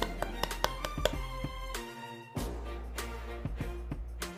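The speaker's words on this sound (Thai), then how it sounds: "จากนั้นให้เคาะน้ำตาลส่วนที่เหลือออก" Sugar-coated buttered ramekins are rapped on a surface to knock out loose sugar while making matcha soufflé, giving a quick series of sharp, close taps in uneven bursts with a short pause midway.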